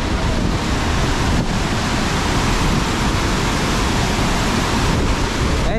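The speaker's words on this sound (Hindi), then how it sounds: "ऐसा बह रहा है ना स्पीड में पानी।" Loud, continuous rushing of a fast-flowing river fills the scene, a dense unbroken roar with no pauses and no voices.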